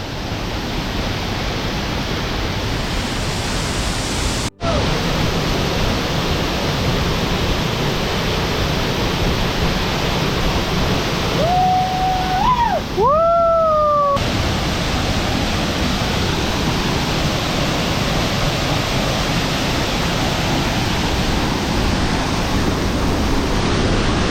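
A hidden waterfall in Coorg pours down from above, filling the air with a steady, loud broadband rush that holds unbroken throughout, with a brief sharp knock near the start and a couple of faint whistling tones partway through.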